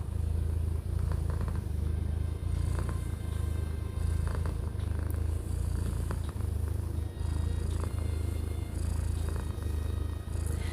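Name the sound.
cat purring while being petted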